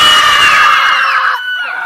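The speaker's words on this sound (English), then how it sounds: "scream as loud as you can, only once, okay?" Second-grade children on a summer camp visit scream together once inside the Sandy Hook mortar battery, a loud sustained burst of shrill voices that echoes off concrete walls before cutting off into a ringing decay.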